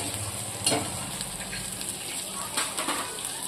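Curry leaves sizzle in hot oil with a steady frying hiss, broken by a couple of sharper crackling bursts, close and moderately quiet.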